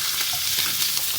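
Diced onions sizzling and simmering with beef in a hot pan for a cow feet and beef steak dish, a steady close frying hiss with soft stirring textures throughout and no voices.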